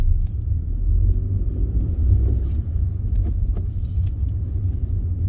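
Honda City 2020 car rolling over a large speed breaker, heard from inside as a steady low road rumble and engine drone with faint soft thumps and small rattles, no talking.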